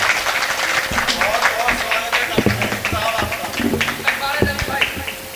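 Audience at a mushaira applauds to welcome a poet, a steady patter of many hands clapping, moderately loud, with someone speaking over it.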